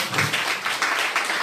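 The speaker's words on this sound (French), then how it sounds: "On va applaudir, vas-y." A gathered audience at a church-style meeting claps together, a short dense burst of applause close by with no talk over it.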